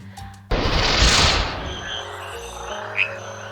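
A loud burst of frog croaking erupts suddenly in the Amazon rainforest, then settles into a chorus of calls and chirps layered over one another, dense and nearby.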